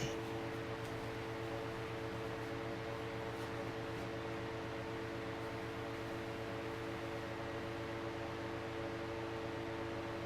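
Holmes box fan running steadily, a constant airy whoosh with a low motor hum and faint tonal whine, close and unchanging throughout, with no voices.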